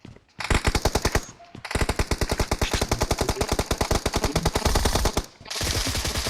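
A suppressed M762 rifle fires in PUBG Mobile team deathmatch, with two long, rapid automatic bursts of dense, evenly spaced shots split by a short pause, close and loud.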